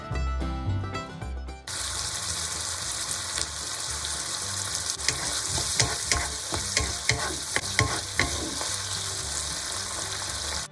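After a brief musical opening, beef noodles with soybean paste are stir-fried in a hot wok, producing a loud, continuous sizzle broken by rhythmic spatula scrapes and clanks.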